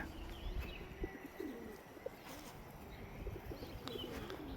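Racing pigeons coo softly amid scattered chirps and low rustling, a busy flock heard at moderate distance without talk.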